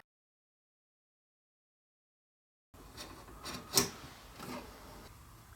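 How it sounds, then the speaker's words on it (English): A marking knife or scribe scores a line across a wooden board along a square, making a short, quiet rasping scrape after a stretch of silence, with one brief sharper scratch. "we're going to score a line right across that 6 inch mark."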